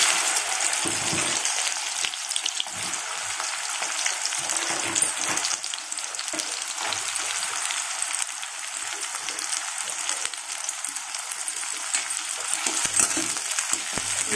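Lentils (dal) boiling in a pot and foaming up, a continuous close bubbling and sizzling hiss that holds at an even level throughout.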